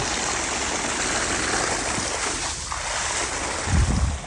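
Steady broadband rush of water flowing through a hose while flushing landscape irrigation, constant and close, with a brief low thump near the end.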